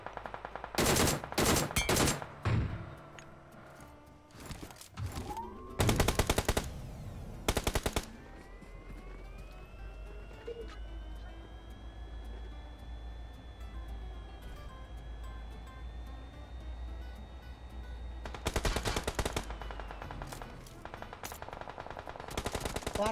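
Machine gun fire in a battle royale video game, several rapid bursts early on and again near the end, with a vehicle-like drone in between and no talk.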